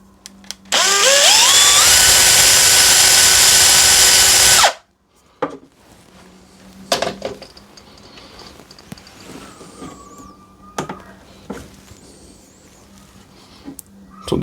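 A power drill bores a hole in a wooden salt or pepper shaker, a loud high whine that spins up quickly and holds for about four seconds before cutting off, followed by scattered clicks and handling noises.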